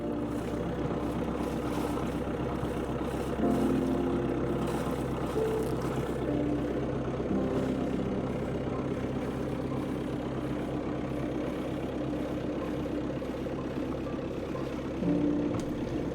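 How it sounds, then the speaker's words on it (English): A boat engine idles steadily after a long winter lay-up, warming up with a low, even rumble and faint mechanical hum that holds constant throughout, moderately close and without talk. "we like to run the engine up to temperature and make sure everything's running tip-top condition."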